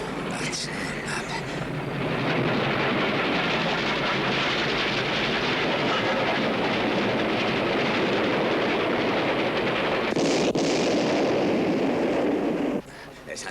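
A train rumbles past loud and close for several seconds with dense clattering roar, then a sharp blast bursts out near the end before the noise cuts off abruptly.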